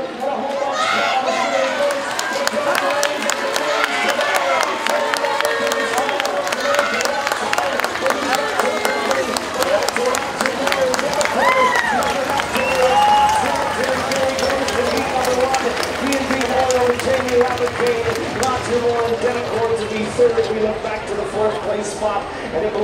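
Rodeo crowd in Saskatoon roaring and cheering with scattered applause, a dense continuous wash of many voices and claps that stays loud throughout, with an announcer's voice faintly mixed in.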